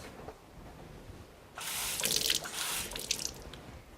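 A tap turns on partway through, sending a steady hiss of running water after a quiet start, with faint clinks in the background.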